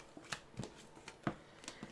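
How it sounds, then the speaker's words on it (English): Tarot cards being shuffled by hand at close range, a quiet series of soft, irregular riffling and tapping sounds. "So I'm going to shuffle this a little bit while you guys are guessing."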